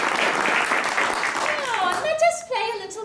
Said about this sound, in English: Please give a warm round of applause to the heroes of legend.